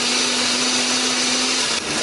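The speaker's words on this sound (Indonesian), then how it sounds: "Kemudian bumbunya akan kita haluskan menggunakan blender" A kitchen blender whirs steadily at high speed, grinding a wet spice paste of turmeric, ginger and garlic with water, loud and close, its motor pitch shifting slightly near the end.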